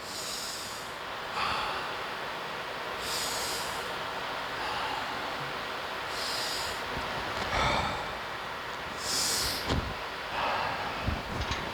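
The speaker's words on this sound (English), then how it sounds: "Just do 5 more breaths." Deep, audible breaths drawn in and pushed out during a hip stretching exercise, slow rhythmic inhales and exhales repeating every couple of seconds, close and alone with no talking.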